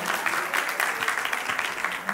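Applause at a traditional baby shower celebration, a steady patter of clapping hands sustained throughout the short stretch, moderately loud and close with no break.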